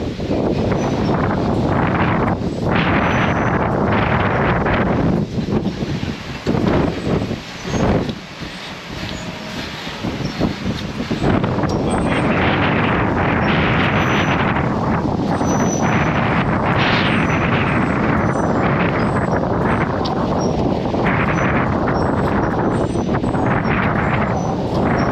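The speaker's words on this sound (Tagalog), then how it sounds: "Sobrang hangin talaga." Strong wind buffets the microphone on a Mt. Ugo mountain trail during a trail ride, a loud continuous roar with gusty surges, dipping briefly near the middle before rushing back at full force.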